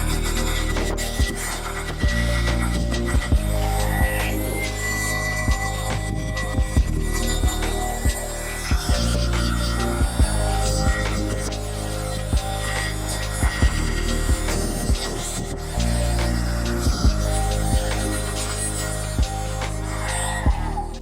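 A Ryobi 4-volt USB lithium handheld blower runs continuously with a steady motor hum and faint rhythmic throbbing, close and unbroken throughout.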